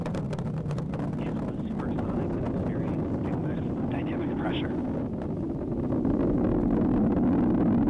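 Falcon 9 rocket engines roaring during ascent toward max Q, a steady broad low rumble that holds throughout and swells slightly louder near the end, heard from a distance with wind-like noise.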